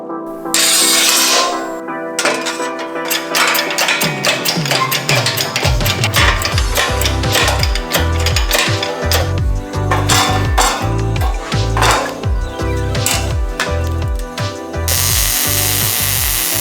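A ratchet tool drives bolts to fasten a custom battery box into a Toyota pickup, loud and close, with rapid clicking bursts and mechanical rattles repeating over the whole stretch. No one speaks.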